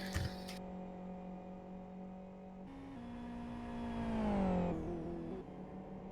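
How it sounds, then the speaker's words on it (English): A GT race car engine holds a steady tone, then drops in pitch through downshifts while braking hard into the final hairpin at Westhill International, loud and sustained with no voices. "Now he's approaching the final hairpin, braking down to around 120."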